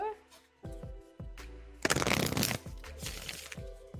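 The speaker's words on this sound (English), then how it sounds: "shuffling for question number 2" Tarot cards are shuffled in a series of quick papery riffles and taps, ending in a louder burst of flicking cards, while a person talks softly.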